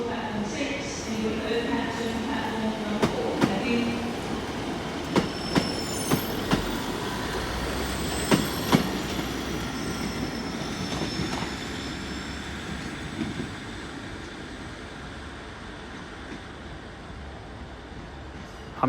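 A passenger train pulls out of Exeter St Davids station, a long rumbling roll with squealing wheels and clattering over rail joints, fading gradually as it leaves, with a person speaking nearby.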